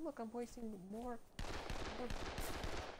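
Auto rifle bursts rattle in the zombie game Dead Island, rapid shots cutting in after a spoken line and continuing under the player's voice.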